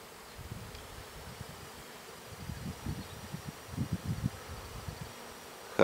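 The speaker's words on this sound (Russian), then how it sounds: "Хороший облет у пчел." A soft, steady insect buzz of honeybees flying close around hives in October, swelling in bursts with no voices, ending in a brief louder knock.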